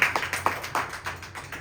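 Hand clapping during a Tamil Christian church sermon, a quick run of sharp claps in uneven rhythm, near and fairly loud, with no speech over them.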